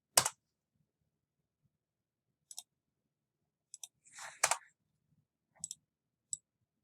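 Sparse, close computer clicks while drawing a 23.091-inch line along a curve in CAD software, a few isolated mouse clicks and short keyboard taps spread over several seconds of near silence, with no talking.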